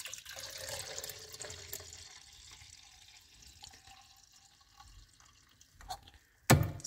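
Cleaning solution, about half a litre, poured into a Salus Mag defender MD22A magnetic heating filter: a steady liquid pour with faint trickling, then a short louder clatter at the end, with no talking.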